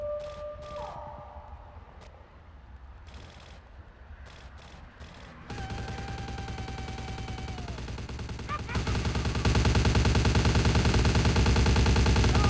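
Gunfire in Vampire the Masquerade Bloodlines, dense bursts of automatic shots that grow louder and more continuous toward the end, after a quieter stretch with scattered sounds.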